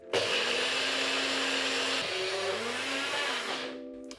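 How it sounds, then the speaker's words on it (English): A NutriBullet high-speed blender runs loud and steady for about four seconds, whirring with a slight pitch shift midway before cutting off, while a vegan stovetop mac 'n' cheese sauce is being blended. "I'm using a NutriBullet, which is great, but you can also use any other high-speed blender"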